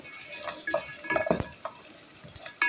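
Dried black lemon and cinnamon being stirred in a chicken soup pot, with soft scraping, light clinks and a faint sizzle in a quick irregular rhythm, close and fairly quiet.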